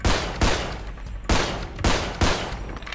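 Gunfire in the video game GTA 5 during a roleplay session, five sharp, loud shots in quick, uneven succession.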